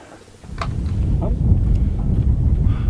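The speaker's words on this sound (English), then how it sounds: "it's starting to get windy, so I'm gonna try to get this done" Wind gusts buffet the microphone, building into a steady low rumble after a brief quiet start.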